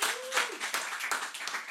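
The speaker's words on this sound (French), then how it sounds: "Là aussi, je crois qu'on peut applaudir." A short burst of audience clapping in a French television studio, dense and fairly quiet, with a voice briefly heard over the start.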